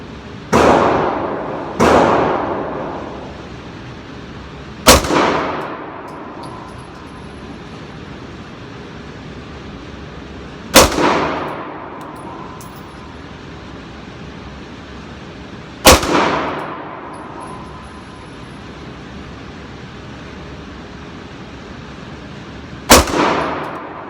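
Five shots from a Dan Wesson Valkyrie Commander 9mm pistol fired at slow pace on a range, each a sharp loud crack with a short ringing decay, spaced several seconds apart with quiet between.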